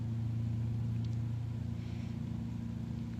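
Simulated light aircraft piston engine in Microsoft Flight Simulator run up to about 3,500 RPM, a steady loud droning hum with strong low harmonics, holding even and slightly wavering throughout.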